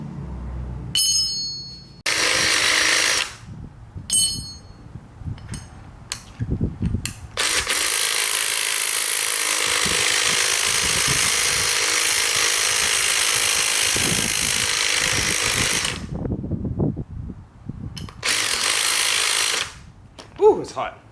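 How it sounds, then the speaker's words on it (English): A high-pitched Dremel rotary tool whines and grinds up close on part of an Emove Cruiser electric scooter setup in several long bursts, with short pauses and clunks of handling between them. "So I'm gonna have to use a Dremel and Dremel this out just a tad bit."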